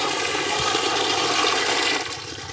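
Running water gushes loudly and steadily from a newly connected household tap supply, a dense continuous rush that eases slightly toward the end, with no voices.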